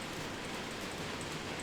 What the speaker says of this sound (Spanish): Siento que está lloviendo fuerte ya.